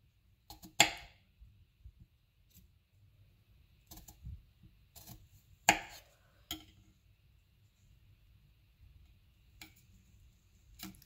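Knife strokes cut carefully down long slices of garlic on a cutting board, sounding as sparse, sharp taps and ticks that come at irregular intervals over near silence.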